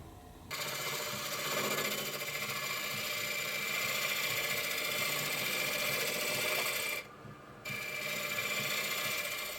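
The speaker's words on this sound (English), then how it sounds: "let's head over to the lathe and turn these down to pretty much their final dimension" Wooden forklift wheels turned down to size on a lathe: a steady, close mechanical whir with a rasping cutting texture runs almost continuously, stopping briefly once near the end before resuming.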